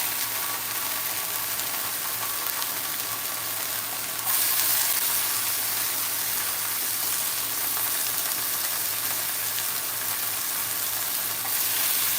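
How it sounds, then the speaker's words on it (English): Bacon sizzles and crackles in a pan over a hot stovetop fire, an even, continuous frying hiss close by that swells slightly partway through, with no voices. "I'm going to add some more bacon."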